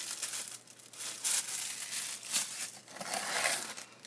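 Soft, continuous crinkling and rustling of tissue paper as something is unwrapped, close and steady with small bursts of louder crackle.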